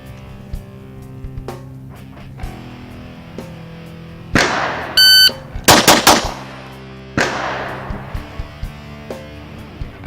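Pistol shots ring out at an outdoor range during a three-shot drill, a few sharp, loud cracks in a quick cluster with an electronic timer beep nearby, plus fainter distant shots before and after.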